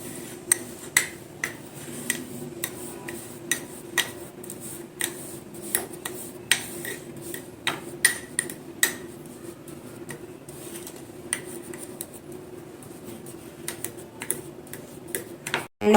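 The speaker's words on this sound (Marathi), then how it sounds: "आता चमच्याच्या सहाय्याने आपल्याला याला या काचेच्या भांड्यात असं सेट करून घ्यायचंय।" A spoon scraping and tapping mango cheesecake mixture into a glass bowl, with light clicks and ticks scattered irregularly over a quiet background and no talking.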